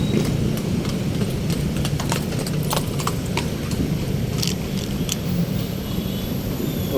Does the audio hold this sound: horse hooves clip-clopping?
yes